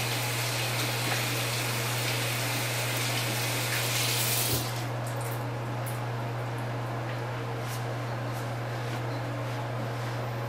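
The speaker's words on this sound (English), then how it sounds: "I'll go ahead and rinse my hands" Tap water runs steadily as hands are rinsed, a close, even hiss lasting about four and a half seconds before the flow is shut off, leaving a quiet room.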